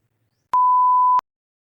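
A morning alarm clock gives out one clean, steady electronic tone that lasts under a second, with silence before and after it.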